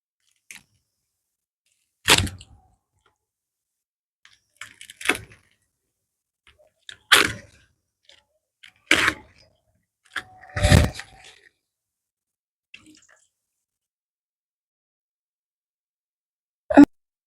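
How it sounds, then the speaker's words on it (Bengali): A washed palmyra palm fruit is peeled by hand, giving a handful of sharp, separate cracking and tearing snaps spaced a second or two apart against near silence. "তালটা ভালো করে ধুয়ে নিয়েছি, এবার ছাড়িয়ে নেব।"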